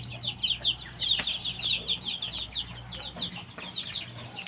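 A cage of young chickens in a backyard coop gives off rapid, high-pitched cheeping in quick overlapping bursts, fairly close and steady throughout.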